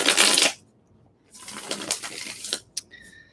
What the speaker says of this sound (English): Let's shuffle them more.